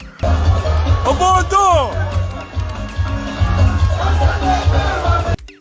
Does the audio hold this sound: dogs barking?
no